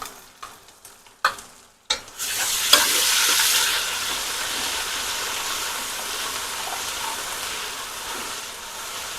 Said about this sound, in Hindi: अब हम इसमें डालेंगे अदरक लहसुन का पेस्ट 1 टेबल स्पून।